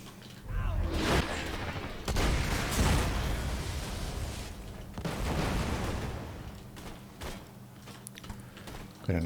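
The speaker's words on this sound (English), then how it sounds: "Got a nice explosion there from the powder monkey. We must have hit his backpack." Explosions and heavy weapon fire in the Borderlands 2 video game as an enemy powder monkey's powder backpack blows up, with several loud booming bursts spread across the span over a dense, noisy battle backdrop.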